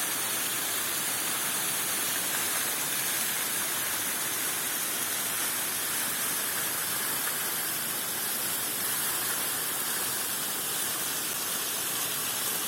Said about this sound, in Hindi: इस खूबसूरत आबशार के पास पहुंचाए जो कि गांव रसोला में मौजूद है